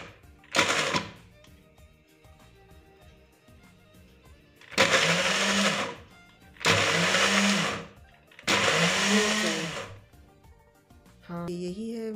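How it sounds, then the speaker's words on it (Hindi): An electric kitchen grinder coarsely chops carrots for gajar halwa in short pulses, four loud whirring bursts of about one to two seconds each with quiet pauses between, close by, followed by a brief mechanical rattle at the end. "इसी तरह 2 सेकंड 4 सेकंड चलाएं रोके, बिल्कुल दरदरा सा गाजर ग्राइंड होगा।"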